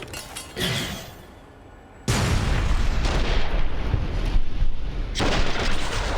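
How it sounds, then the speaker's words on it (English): A grenade blast in Fallout: New Vegas, with a smaller thump first, then a sudden loud explosion that leaves a long rumbling wash of debris and noise with no talk. "Have a grenade."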